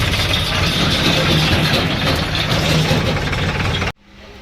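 A loud, steady tractor engine rumble runs continuously at close range, then cuts off abruptly near the end, leaving quiet background.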